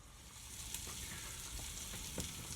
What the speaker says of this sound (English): it's sizzling away nicely and nearly ready